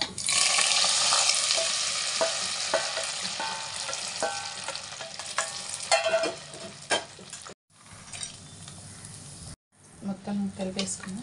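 Kattu pongal, made as a Navratri prasadam, stirred into a pan of sizzling tempering with pepper, dried red chillies and curry leaves; steady close sizzle with scraping strokes, broken by two brief silent gaps near the end.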